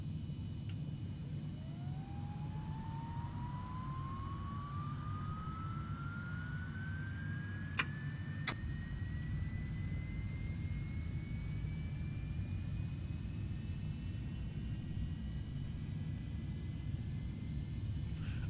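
The number one jet engine of a Premier 1a business jet spools up on start, a rising whine climbing slowly and steadily over a constant low rumble of ground power, with a couple of sharp clicks midway.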